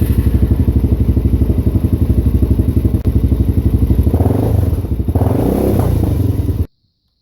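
A Suzuki DRZ400 motorcycle engine with the choke set halfway chugs loudly and rhythmically close up, then rises briefly into a revving surge before cutting off sharply.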